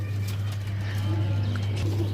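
Pigeons for sale at a bird market, soft low cooing heard close over a steady hum, with faint background chatter and no clear speech.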